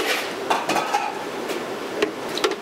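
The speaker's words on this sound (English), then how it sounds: "We're going to do one scoop of our mangoes." Mango is scooped from a container into a blender for a passion fruit smoothie at a Tropical Smoothie shop, making a string of light clinks and scrapes against a constant noisy background.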